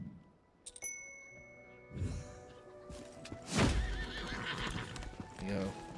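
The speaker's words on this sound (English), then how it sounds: "let me go ahead and get my horse on" Horse hooves clip-clop and a horse whinnies as a mount is summoned in the online fantasy game Lost Ark, with game chimes and effects around it and someone talking over the sounds.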